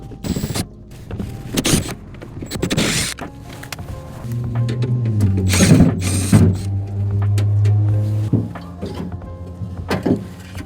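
Socket ratchet backing out the three bolts that hold a failing car power-window motor, with repeated clicking and mechanical turning noises close by over a steady low hum, no talk.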